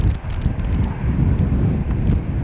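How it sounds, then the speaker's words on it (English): Strong wind buffets an outdoor microphone at Schiphol Airport, a loud continuous low rumble with gusty swells throughout. "this wind is causing my eyes to tear"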